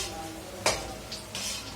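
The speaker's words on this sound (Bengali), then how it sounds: "সুন্দর ব্রাউন ব্রাউন ফ্রাই হবে এগুলো। তো আমি ভাজতে থাকি" Coated baby corn frying in a pan, a low sizzle under a few sharp clinks and scrapes of a utensil against the pan, up close and without talk.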